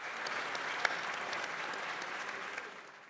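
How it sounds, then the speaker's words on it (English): An audience at a Salute to Women in Leadership awards event applauds, a steady, dense round of clapping that fades slightly toward the end. "please give her a thunderous round of applause"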